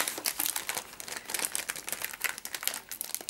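A resealable plastic sleeve holding a signed K-pop mini album crinkles and rustles in quick, continuous handling bursts, close up and without any voices.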